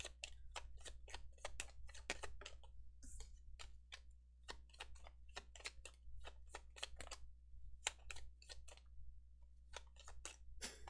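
Lenormand cards being shuffled by hand, a quick series of crisp ticking card snaps in an irregular rhythm over a low steady hum, with no talking.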